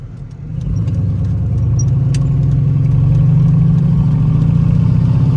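Engine of a boosted Chevrolet Tahoe on the road, a steady loud drone that swells in the first half second and then holds constant, with faint rattles over it and no talking.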